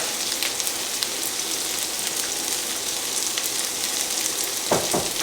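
Sausage and meatballs fry in a pan with onions and garlic, a dense, even crackling sizzle like rain on a surface running throughout, with a short stirring scrape near the end.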